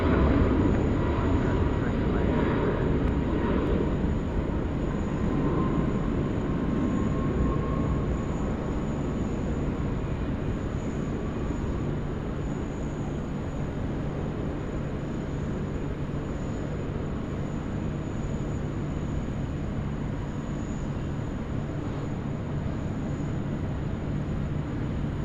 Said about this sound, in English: The Jetstar in their fancy new livery, the A321neo, off runway 16 right